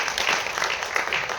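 An audience gives a brief burst of applause for two actors of a Marathi family drama serial, a dense, loud spatter of clapping over a short moment.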